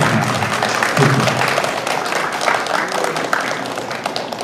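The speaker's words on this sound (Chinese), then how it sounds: "大 家给这个陈馆长一个热情的掌声" Warm applause from an audience at a museum exhibition opening, honoring the museum director: a dense, sustained wash of many hands clapping that continues steadily across the whole stretch.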